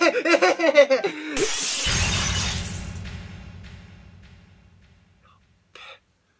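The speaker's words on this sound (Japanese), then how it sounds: "これを窓ガラスに投げたらどうなるんだろうな。" A thrown stone smashes through a school window. The pane bursts in a loud crash, and falling glass tinkles and fades over several seconds. A voice is heard just before the impact.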